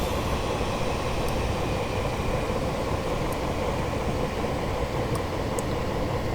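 A passenger train runs in Train Simulator Classic on the Cardiff to Cheltenham Spa route, a steady, loud rumble of wheels and rails with constant cabin noise and a few faint high ticks.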